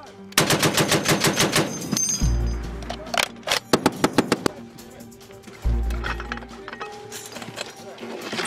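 A Browning M2 .50 caliber machine gun fires several loud, rapid bursts outdoors, each a fast chain of heavy reports with deep booms between, and a voice speaks over the gunfire.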